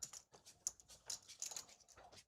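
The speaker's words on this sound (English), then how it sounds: "I hear some chips rustling in the background." Poker chips rustle and clack in the background of a live $1/2 Texas Hold'em cash game, a series of faint, quick, bright clicks scattered irregularly across the moment.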